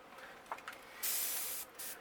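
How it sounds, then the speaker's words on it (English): Short airbrush puffs painting stripes on a crankbait fishing lure, followed by a longer steady hiss of spray lasting about half a second, then another brief burst, close and fairly quiet. "I like to just hand spray a couple stripes."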